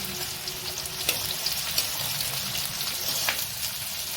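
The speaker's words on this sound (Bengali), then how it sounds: "পেঁয়াজ আমি খুব ভালো করে ভেজে নেব" Chopped onions frying in a pan until golden: a dense, even crackling sizzle close by, with a few light clinks, steady throughout.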